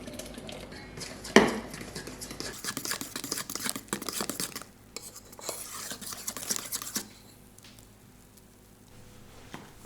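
A light batter with beer for buffalo boneless chicken wings is whisked in a bowl, rapid scraping and clicking strokes in uneven bursts, close and fairly loud, then fading to quiet.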